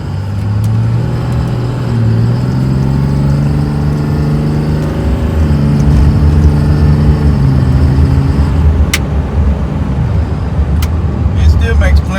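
A modified Cummins diesel truck engine pulling under power from inside the cab, a loud steady low drone with slowly rising engine tones and road rumble, someone talking over it.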